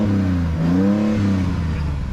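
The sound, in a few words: Mercedes AMG engine revving loudly with cut catalytic converters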